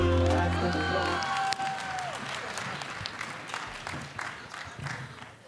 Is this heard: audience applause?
yes